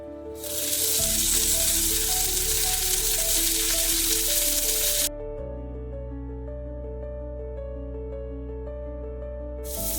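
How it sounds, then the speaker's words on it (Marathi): Green chillies roast in hot oil in a pan, a bright hiss of sizzling for about four seconds over steady background music, then the music continues alone. "आपल्याला या मिरच्या चांगल्या भाजून घ्यायच्या आहे."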